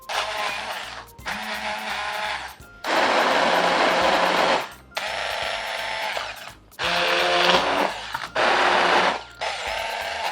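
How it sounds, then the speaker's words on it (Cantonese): A hand blender purees cooked pumpkin soup in loud bursts, its motor whirring for a few seconds at a time with short pauses between, close up and without talk. "用呢啲攪棒，或者有攪拌機，用攪拌機仲好"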